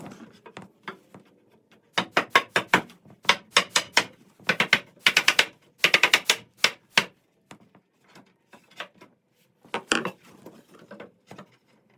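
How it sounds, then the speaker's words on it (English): A brad nailer driving cheap 18 gauge nails into bed-frame boards, sharp close clacks fired in quick irregular bursts with short pauses between groups. "I'm just using the cheap 18 gauge nails with the brad nailer."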